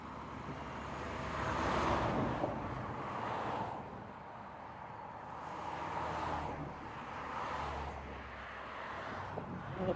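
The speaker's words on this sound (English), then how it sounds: "A pretty constant stream of traffic" Road traffic crosses near the Bandon Bridge, several vehicles swelling and fading past in turn, moderately quiet against wind noise.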